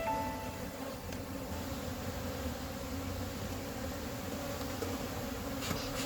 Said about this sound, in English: There's lots and lots of bees in here